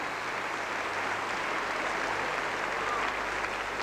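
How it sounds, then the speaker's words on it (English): Studio audience applause at a 1981 music awards show for the radio disc jockeys, a dense, steady wash of clapping with no talk. "What about a round of applause for all the jocks?"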